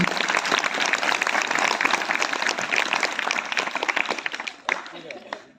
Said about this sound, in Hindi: बहन जी का भी ताली बजा करके स्वागत करेंगे।